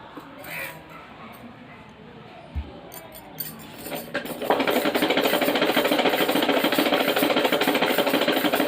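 A sewing machine stitches a folded salwar belt. Quiet handling noises and a brief voice come first, then the machine starts halfway through with a steady, rapid, close mechanical whirring that runs without a break.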